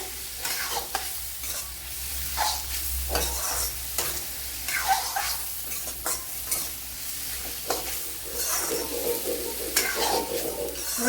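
Small onions sautéing in a pan for a Kerala-style chicken dish, a continuous close sizzle broken by repeated spatula stirs and scrapes.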